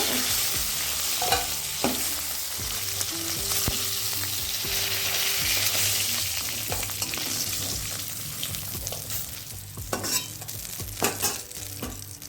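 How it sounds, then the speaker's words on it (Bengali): Snakehead fish fried crisp in hot oil in a wok gives a dense, steady sizzle up close, broken by sharp spatter pops and a few stirring clicks, with a low hum underneath. "শোল মাছটাকে একটু কড়া কড়া করে ভেজে নিতে হয়"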